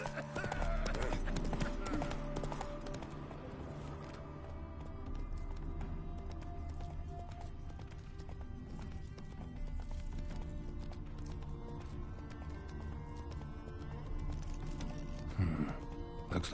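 In the video game Witcher 3, a horse gallops with a steady, rapid clip-clop of hooves and gives a brief neigh, under continuous game music and ambience, with voices talking at times.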